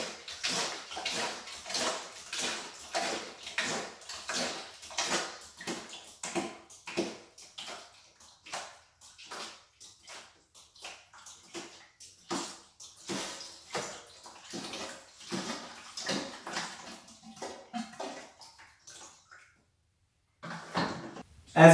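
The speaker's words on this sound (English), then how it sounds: "you're going to pump this pump a few times and it's going to get rid of all that water" A series of rhythmic wet squelching strokes from a hand pump draining water from a toilet, repeated steadily, pausing briefly near the end before resuming.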